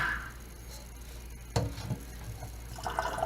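Water pours out of a leech container in a brief, quiet splash and trickle, with faint dripping and light handling noises around it.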